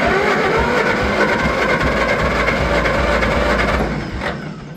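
A John Deere 40 tractor with a positive-ground electrical system cranks on its starter, a loud, steady mechanical churning at close range that fades near the end without catching.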